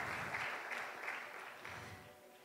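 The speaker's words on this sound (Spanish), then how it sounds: "Dale un fuerte aplauso a Él." Applause from a church congregation during a Spanish-language worship service, a faint, steady wash of clapping that slowly fades, with no talking.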